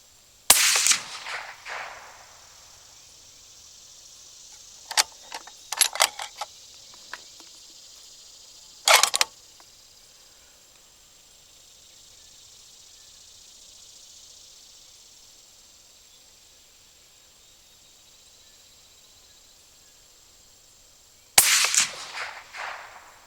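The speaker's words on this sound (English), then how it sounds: "I'm going to shoot a 3-shot group at 100 yards" Three rifle shots from a 7mm Backcountry rifle fired as a group at 100 yards outdoors, each a sharp loud crack spaced several seconds apart, with insect chirring in the background and a few faint clicks between shots.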